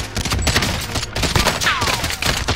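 Rapid automatic gunfire in Call of Duty: Modern Warfare, loud close bursts of overlapping shots filling a short stretch, with a faint whizzing sweep partway through.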